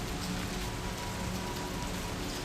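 Rain falls outdoors in a dense, even patter on surfaces, steady and unbroken, with no voices or other sounds.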